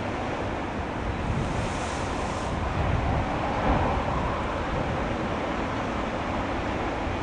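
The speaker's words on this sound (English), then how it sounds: "These waves, these swells are so big that they break further offshore." Big ocean swells break offshore at Boiler Bay, a continuous roaring wash of surf with wind buffeting the microphone, loud and steady throughout with a slight swell in the middle.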